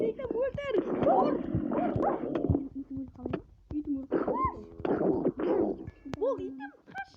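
A dog companion attacks zombies in a zombie-apocalypse video game, its barks and yips coming in short bursts mixed under near-constant excited talking and game noise.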